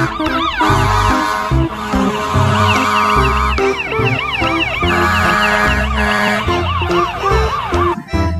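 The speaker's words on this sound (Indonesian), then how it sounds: "Wow, lihat di sini ada mobil ambulans." A toy ambulance blares a loud, continuous electronic wailing siren, its rising and falling tones looping over a beeping tune.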